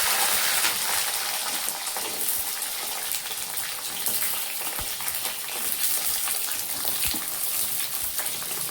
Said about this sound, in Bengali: তেল গরম হয়ে গেছে, দিয়ে দিব কালো জিরা, কাঁচা লঙ্কা,